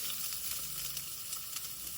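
Onions frying in a pan, a brief, even sizzle with faint crackles close by.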